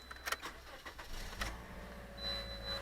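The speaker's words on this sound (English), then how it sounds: "start the car up" A car engine starts, with a short cranking burst followed by a steady low idle, heard close and alone.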